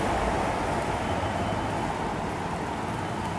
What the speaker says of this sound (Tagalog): Ayan, meron LRT, oh. Ayun, narinig nyo?